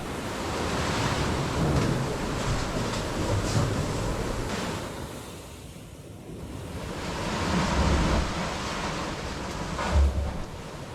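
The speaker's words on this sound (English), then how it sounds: "When the water hits these rocks, the sound is pretty loud and feels quite heavy." Heavy sea water surging and crashing against rocks inside an echoing cave, a loud continuous roar of surf with deeper swells rising around two, four, eight and ten seconds.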